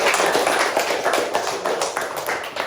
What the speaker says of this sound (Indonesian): Tepuk tangan untuk Cio dulu